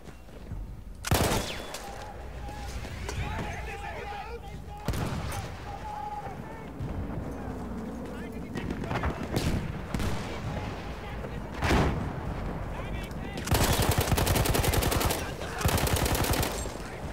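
Bursts of rapid gunfire from a gun in Battlefield 1 rattle through the scene, with heavy sustained volleys near the end, while someone talks casually over the action.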